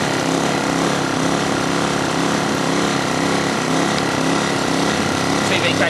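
A 909 Tools i2000 portable generator engine runs steadily and loudly nearby, with a constant buzzing drone that does not break.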